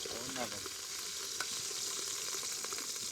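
Food fries in coconut oil with a dense, even hiss and scattered soft pops, a steady moderate sizzle heard close, with a faint brief voice-like tone near the start.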